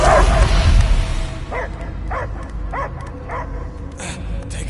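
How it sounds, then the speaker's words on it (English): Dog barking in the Guardians of the Galaxy video game: a series of about five evenly spaced barks starting after a rumbling opening, moderately close over a steady ambient game background. "I hear only barking."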